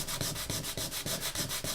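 A bone guitar saddle is rubbed back and forth on sandpaper in steady, even strokes, a close, quiet scratchy rasp repeating about every quarter second with no talk.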